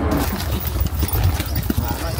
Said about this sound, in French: je fais vraiment du cheval.